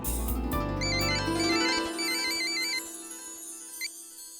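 A phone's ringback tone on an outgoing call, from a Hindi TV serial, warbles in a repeating electronic trill pattern, fairly loud and close, over a low background tone that fades partway through.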